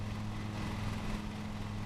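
A lawn mower engine in the Lawn Mowing Simulator game drones at a steady low hum, constant and moderately loud with no change in pitch, and no talking over it.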